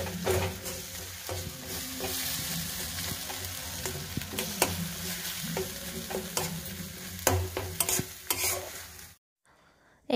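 Egg, tomato and spring onion scramble frying in a Chinese-style dish while being stirred, a steady sizzle broken by sharp scraping strokes throughout, cutting off to near silence just before the end.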